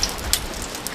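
Steady incessant rain falling at a wet campsite, a dense even hiss with scattered heavier drops, continuous throughout the short stretch.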